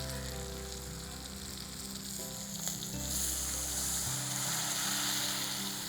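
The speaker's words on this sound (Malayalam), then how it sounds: "അപ്പോൾ നമുക്ക് ഇതിനകത്തോട്ട് നമ്മുടെ പുളിവെള്ളം ഒഴിച്ചു കൊടുക്കാം." Tamarind water is poured into a hot pan with tempered spices for a Chettinad green chilli side dish, giving a steady hissing sizzle that swells and stays loud and close throughout.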